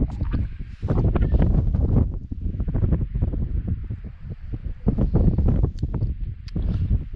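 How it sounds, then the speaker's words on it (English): Gusty wind buffets the microphone on an open Northumberland hillside, a steady rumbling roar that rises and falls in waves throughout. "It's a bit more windy here"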